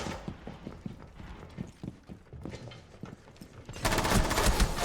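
Rapid gunfire in the Rainbow Six tactical shooter game, a run of sharp repeated shots with a loud dense burst near the end.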